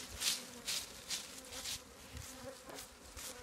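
Apis honey bees buzzing during a honey harvest, a faint, wavering drone with several closer fly-by swells rising and falling over a quiet background.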